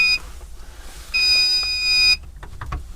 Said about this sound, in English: I end up with this alarm